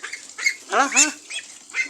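A duck kept on a rooftop gives a series of loud, nasal, honking quacks close by, clustered in quick bursts, while someone speaks briefly.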